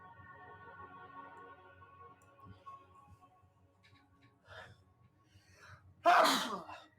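A single loud sneeze bursts out near the end of a Dungeons & Dragons game session, after a stretch of quiet background hum and faint murmuring.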